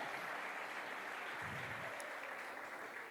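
A church congregation applauds in a continuous, even wash of clapping. It is faint and distant-sounding, with a brief low thump midway.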